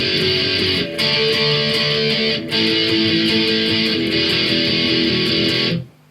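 Electric guitar playing the second part of a song bridge: dense, driving distorted strumming, loud and close, with a couple of brief breaks before it stops abruptly.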